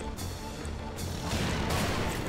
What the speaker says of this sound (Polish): jest dźwięk tych yy, rozbijanych kręgli, jak je rozwalamy